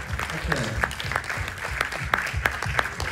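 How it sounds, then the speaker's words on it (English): Audience applause at a film festival Q&A on stage, with steady clapping from a crowd sustained throughout and a few sharper individual claps standing out. "I thought give a little applause."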